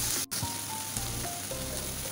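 Fish paste with tomato, onion and chili sizzles steadily in a pan, a continuous close crackle of frying with a brief dip near the start and no talk.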